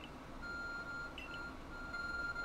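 Soft electronic beeps from a device in the video game Pokémon Legends: Arceus, a few short, faint tones sounding over a steady low game background, with no voices.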